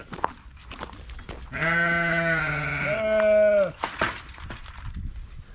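A single drawn-out sheep bleat, loud and close, rising and wavering for about two seconds amid faint rustling and clatter.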